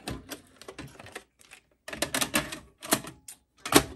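A 1983 JVC HR-7100U VCR being switched on and a tape inserted, a series of loud, close mechanical clunks, clicks and rattles in bursts with short pauses between them.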